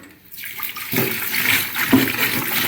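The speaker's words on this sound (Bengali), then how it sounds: "এবার নুন দিয়ে ভালোভাবে ডলে ডলে ধুচ্ছি।" Small mola carplet fish are scrubbed with salt and rinsed in a steel basket, with splashing, running water and wet rubbing that begin after a brief quiet moment and continue at close range.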